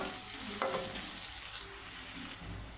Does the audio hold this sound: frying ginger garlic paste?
yes